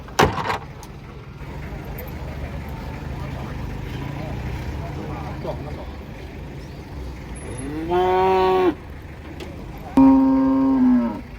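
Cattle being unloaded from trucks at the Jelok livestock market low twice near the end, two loud, close moos over steady crowd and engine background noise.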